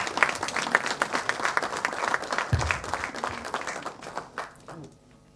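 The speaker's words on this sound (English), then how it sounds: "Please give her a round of applause" An audience at a New Delhi quiz semi-final applauds a woman invited on stage as guest speaker, with brisk, dense clapping that runs strongly, then thins and fades out toward the end.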